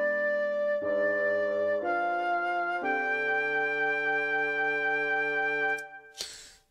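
Closing passage of an electronic composition: sustained tonal chords shift in several steps, then the music cuts off into a short bright final burst.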